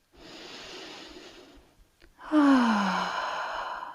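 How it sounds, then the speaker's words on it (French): Someone breathes deeply during a beginner toning workout for legs and thighs. A long steady inhale is followed by a short pause and then a louder, audible exhale, close up, with no talking. "On inspire et on expire."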